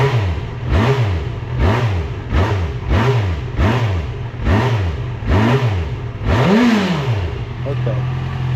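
A motorcycle engine running cold and warming up, revving in steady repeated surges about once a second, loud and close, then settling to a rough idle, with no talking.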